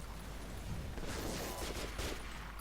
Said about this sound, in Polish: parę strzałów